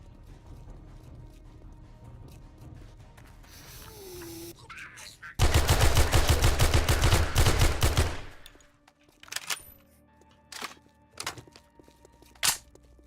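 An AK rifle fires in the game 7 Days to Die, first in a sustained loud burst of rapid automatic fire lasting about three seconds, then a few sharp scattered single shots and mechanical clanks amid quieter game ambience.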